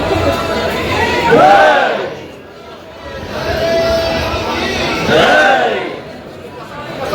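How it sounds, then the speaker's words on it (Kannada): Dense crowd noise at an ISKCON temple on Krishna Janmashtami: a loud, continuous babble of many voices that swells and fades, with talk close by in the foreground. "ನೀವು ಕೇಳ್ಬೋದು ಇನ್ನು ಅಷ್ಟೊಂದು ಕ್ರೌಡ್ ಇತ್ತ ಅಂತ"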